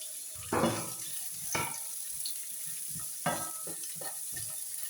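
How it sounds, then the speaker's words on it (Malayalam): Onions frying in a hot pan for a chickpea curry, a steady close sizzle broken by a few louder bursts as they are stirred. "ഇതൊന്ന് ചൂടായി കഴിയുമ്പോൾ നമ്മൾ സവാള ഇട്ട് കൊടുക്കാം"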